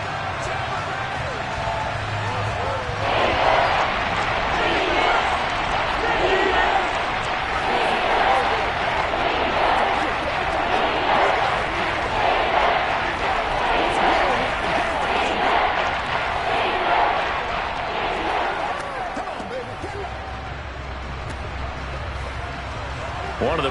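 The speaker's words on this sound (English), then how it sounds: "The crowd getting into it as we come up on a big third down" Football stadium crowd roaring with broad, sustained noise as a big third down approaches, swelling after a quieter start and holding steady before easing off near the end.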